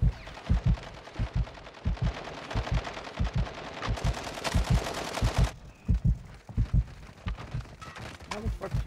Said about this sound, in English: is that an AI shooting like that?